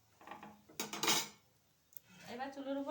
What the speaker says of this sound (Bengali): এবার চুলোর উপর আমি বসিয়ে দেবো একটা কড়াই।